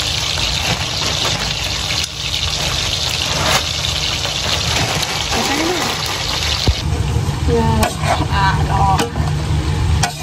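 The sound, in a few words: stirring pancit canton noodles in a pan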